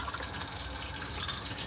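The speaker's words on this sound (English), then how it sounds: "Open to the cassette just here, and then push to flush just here." Water gushes steadily as the cassette toilet flushes inside a Benimar Tessoro T494 motorhome, a close, continuous rushing stream with no pauses.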